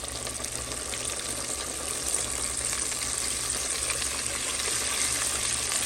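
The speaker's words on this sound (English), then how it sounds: "so that's how I added the chicken to the oil" Steady, loud sizzling and crackling of mustard-coated chicken frying in hot oil, continuous throughout with no talking.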